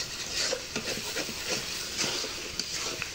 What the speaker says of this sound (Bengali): এখন ভালো করে 5 মিনিটের মতো আবার কষিয়ে নিব